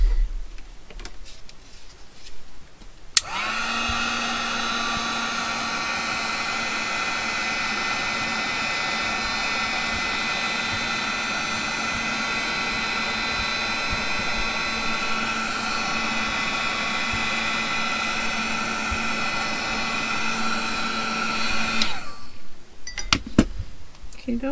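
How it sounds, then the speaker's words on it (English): A heat gun blows hot air for a craft project in a steady, loud whirring roar with a constant tonal hum. It switches on abruptly, runs for about twenty seconds and then cuts off, with quiet room sounds before and after. "Alright, let's get the heat gun."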